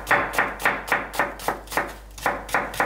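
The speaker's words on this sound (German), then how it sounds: "Die Zwiebel schneiden wir dann kleiner." A knife chops an onion on a cutting board while egg salad is being made, giving a steady run of about ten crisp, close thuds at an even rhythm with a short pause midway.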